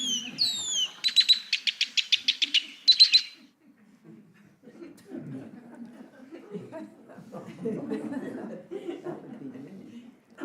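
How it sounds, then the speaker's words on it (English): A male red-winged blackbird gives its flight song, a rapid, evenly spaced string of sharp call notes lasting a few seconds, followed by a voice talking quietly. "each individual male red-winged blackbird has his own specific string of call notes that is his flight song"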